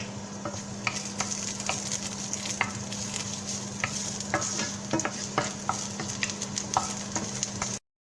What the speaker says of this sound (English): Put some oil in the pan. So we add garlic.